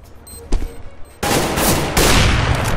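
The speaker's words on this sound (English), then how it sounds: "Nice sniper duel." Sniper rifles trade shots in Counter-Strike GO on the Seaside map: a few sharp isolated cracks, then a loud, dense burst of gunfire that rolls on to the end.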